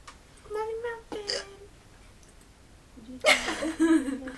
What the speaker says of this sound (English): Go away, hiccups.